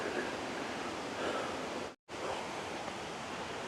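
Khlong Nam Lai waterfall in Kamphaeng Phet, Thailand, pours with a dense, steady roar of flowing water, close and loud throughout, broken only by a brief cut to silence midway.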